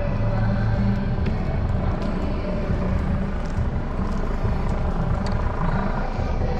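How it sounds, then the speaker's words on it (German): A steady low rumble of a police helicopter overhead during a large protest, continuous and fairly loud throughout, with a thick drone of rotor and engine noise. "Hubschrauber ist natürlich auch im Einsatz."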